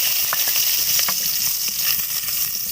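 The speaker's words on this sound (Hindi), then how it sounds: "कढ़ाई में मैंने 1 चम्मच ऑयल डाला है, ऑयल गर्म है। इसके अंदर डाल देते हैं 4 जवे लहसुन" Four chopped garlic cloves sizzle in a spoonful of hot oil in a kadhai wok, giving a loud, steady crackling hiss with small scattered pops.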